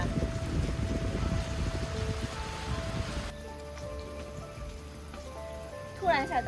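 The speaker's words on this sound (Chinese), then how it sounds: "突然下大雨了" Sudden heavy rain pours down outdoors in a dense, steady wash that thins after a few seconds. People talk over it, and a clatter sounds near the end.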